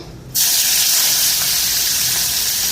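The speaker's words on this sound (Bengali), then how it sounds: "তেলটা গরম হয়ে গেছে বাঁধাকপি দিয়া দিই" A sudden loud burst of sizzling as vegetables hit hot oil, then a sustained, bright hiss continues without pause.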